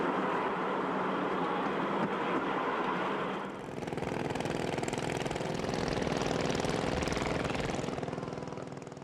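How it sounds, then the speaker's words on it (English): A loud, continuous rumble of a train passing close by in the Philippines, a heavy rolling roar that builds and holds without pause. "The train is a practical means of transportation."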